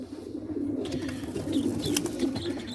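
A pigeon sitting on its eggs in a nest gives soft, continuous low cooing, close by and steady throughout, with no talking.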